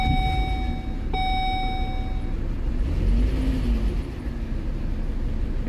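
The engine of a 2012 Volvo S60 idles with a misfire, giving a low, uneven rumble close up. A steady electronic beep tone sounds over it for about the first two seconds.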